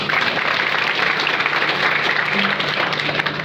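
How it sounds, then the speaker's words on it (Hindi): A village gathering applauds loudly for the sarpanch, dense continuous clapping from many hands filling the space, steady and close throughout. "जोरदार ताली होना चाहिए"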